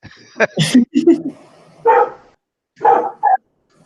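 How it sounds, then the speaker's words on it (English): A dog barks close and loud during an online meeting, several sharp barks and yips in an uneven burst followed by a couple more spaced barks. "I heard a dog."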